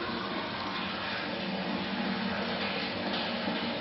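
Water from running sinks and a hose flows through a drain line cleanout in a store building, making a steady, even rushing roar that stays constant throughout without voices.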